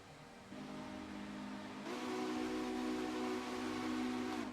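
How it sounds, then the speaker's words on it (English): Western Maryland 3-chime steam whistle on a locomotive in a railroad video game, sounding as a sustained chord that swells louder midway and holds steady, without talk. "How do you like the Western Maryland 3-chime? I love this. I love this whistle."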